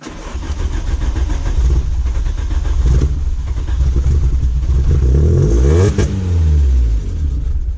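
A Volkswagen Golf 2 GTI 16V engine runs loud and close at its first start, holding a steady rumble before revving up and down with rising and falling tones near the end.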